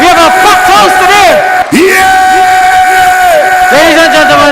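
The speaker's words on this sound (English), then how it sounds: "Give yourselves a round of applause, man." A packed house at a union meeting erupts in loud whoops, yells and cheering from a dense crowd, with rising and falling voices and a brief dip before the roar resumes.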